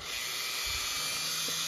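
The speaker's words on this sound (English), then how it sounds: "this Dremel with the wire head" A Dremel rotary tool fitted with a wire brush head runs on low during a bioactive reptile enclosure build, giving a steady, high-pitched whine with a faint scratchy texture and no speech.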